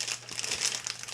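A plastic bag is opened and handled, producing continuous close, crisp crinkling and rustling with no talking.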